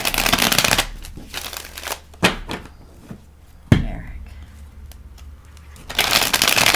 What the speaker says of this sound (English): Here we go. Shuffle.